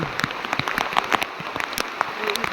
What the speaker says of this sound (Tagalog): Halos hindi na makita sa ulan. Napakalakas ng ulan.